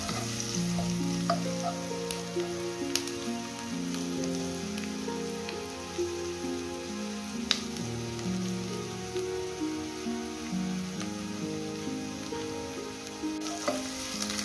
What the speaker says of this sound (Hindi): हमने स्पून को इस स्टेज पे आके चलाते जाना है ताकि प्याज हमारी नीचे लग के जले नहीं